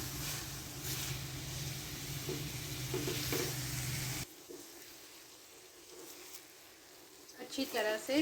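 Minced meat qeema sautéing in a pan, a dense sizzle with stirring knocks for about four seconds, then a quieter stretch where a voice speaks near the end.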